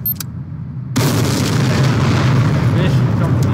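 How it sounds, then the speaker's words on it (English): A C4 charge blows up a warehouse in a video game: a quiet lull breaks into a sudden heavy boom that rolls on as a loud, sustained rumbling roar through the rest of the moment. "So I got a big explosion for you guys right here"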